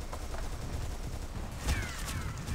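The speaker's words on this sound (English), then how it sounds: "gunfire everywhere" Dense gunfire from the Shadowgun: Dead Zone shooter game crackles continuously as a busy fusillade of overlapping shots, with a brief heavier burst partway through.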